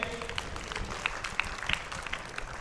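Spectators applaud a World Bowls team at an exhibition lawn bowls match, a steady, moderately distant patter of clapping with a few sharper claps standing out.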